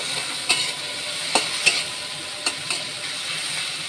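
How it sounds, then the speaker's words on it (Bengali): Hilsa fish head and shrimp fry in oil with salt and turmeric, giving a steady close sizzle broken by a few sharp spatter pops and scraping stirs. "একটা ইলিশ মাছের মাথা ছিল আর একটু চিংড়ি মাছ দিয়ে এটাকে ভেজে নিচ্ছি নুন হলুদ দিয়ে"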